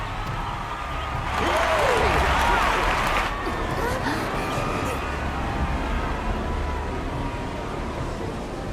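A crowd cheers and applauds in a Final Fantasy XIV scene, a dense wash of clapping swelling loudly for a couple of seconds before settling into a steadier murmur of applause, with voices mixed in.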